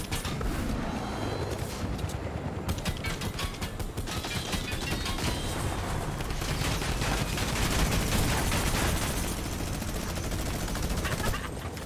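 Rapid, continuous minigun fire in Fortnite rattles on for several seconds, a dense buzzing stream of shots with mechanical whirring, game-like and steady.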